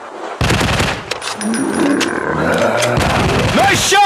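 Rapid bursts of gunfire ring out in a zombie shooting video game set in an industrial war zone, loud and close, with game voices calling out between the shots.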